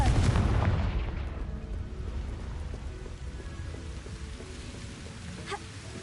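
A Confringo fire spell detonates in Hogwarts Legacy, a loud boom with a rumbling, rain-like crackle that fades over several seconds, leaving a faint ambient game tone.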